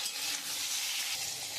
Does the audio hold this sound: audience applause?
no